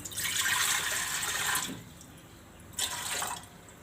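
Water pours into a metal pressure cooker in two bursts, a longer splashing stream followed by a short pause and another brief pour.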